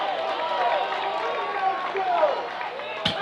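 Crowd at a Kentucky high school state championship baseball game, Louisville Holy Cross versus Caldwell County, reacting to a disputed strike call with a sustained murmur of voices and some clapping, ending in a sharp knock.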